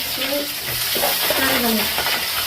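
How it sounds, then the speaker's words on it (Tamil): Onions and green chilies frying in hot oil with mustard seeds, giving a steady close sizzle with faint scraping and a voice speaking over it. "வெங்காயம் போடுவோம், பச்சை மிளகாய் போடுவோம்"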